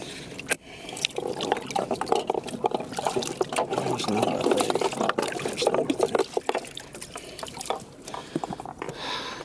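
Fresh lake water pumped into a bass boat's livewell during a Lake St. Clair tournament, a steady close splashing and trickling flow that runs continuously, with a little talk mixed in.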